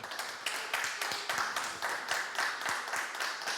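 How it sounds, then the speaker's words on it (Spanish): A live audience breaks into applause, a dense, steady wash of many hands clapping at moderate volume that carries on without pause, with no clear voices over it. "yo quiero invitar a todos los africanos a dar un aplauso a esos blancos"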